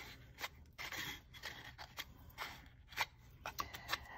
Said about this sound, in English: We'll just trim that with our snips.